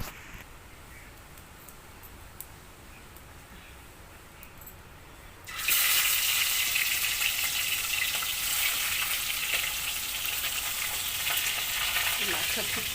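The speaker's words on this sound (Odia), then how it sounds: "ମାଛ ଫୁଟିବ।" Spiced fish starts frying in a pan after a quiet stretch, then a loud, close sizzle and crackle fills the rest and keeps going without a break.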